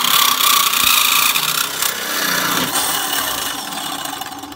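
A Hookdrill bores into a hardened steel fire sprinkler pipe, a loud, close, continuous grinding and rasping drone that shifts slightly in pitch as pressure changes.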